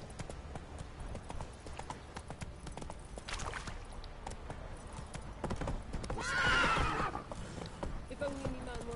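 Geralt's horse Roach from The Witcher 3 gallops with steady clip-clopping hoofbeats, breaking into a loud neigh and whinny near the middle, with someone talking over the ride.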